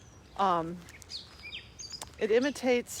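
A mockingbird sings a few varied, bright phrases, with short bursts of whistled notes separated by brief pauses, fairly close and clear.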